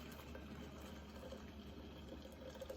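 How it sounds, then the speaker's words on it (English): Freshly boiled water from an electric kettle pours into a teapot, a steady soft bubbling gush with a faint hollow filling tone, continuous and low in level. "I'm pleased with the amount of boiling that was going on while I was pouring that in."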